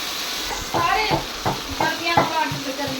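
White chicken karahi with salt cooks in a pan, giving a steady sizzle with faint stirring and scraping at an even, moderate level. A voice talks softly in the background.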